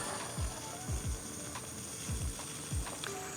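The grind-size dial on a Jura J8 coffee machine is turned while the grinder is idle, giving a series of sharp mechanical ratcheting clicks in irregular bursts. The clicks are close and fairly quiet, over a low background hum.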